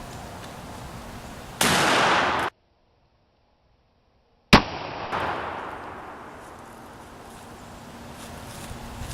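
A gun fires at a pumpkin target from 10 yards, a loud, sharp blast that cuts off into silence, then a second crack followed by a long, fading echo.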